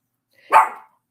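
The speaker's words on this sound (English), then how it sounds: "excuse my dog, okay, my puppy. Be quiet, boy." A single short puppy bark, close and fairly loud, then silence.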